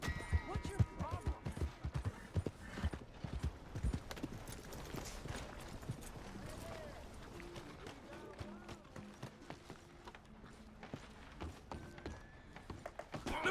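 Horse hooves clip-clop steadily through a Red Dead Redemption 2 game scene, a rhythmic run of close, fairly loud footfalls with occasional game clatter and voices talking over parts of it.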